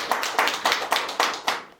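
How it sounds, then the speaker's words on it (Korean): Rhythmic group clapping at a pastors' seminar, six sharp evenly spaced bursts of hands striking together, fairly close and loud, with no talking over it. "우리 하나님께 영광의 박수"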